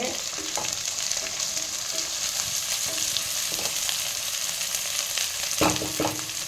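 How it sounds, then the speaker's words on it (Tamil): Green chillies fry in hot oil with a constant loud sizzle, while a spoon stirs and scrapes the pan in a few scattered strokes. "பச்சை மிளகா போட்டுட்டு 2 பரட்டி விட்டு"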